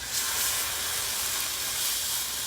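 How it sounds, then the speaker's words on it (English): Pork loin searing in avocado oil on a Blackstone griddle, a soft, steady sizzle and hiss that holds evenly throughout without pause, close but fairly quiet, with no voices. "So we just have some avocado oil down on the grill. And we're going to put the pork loin directly on there."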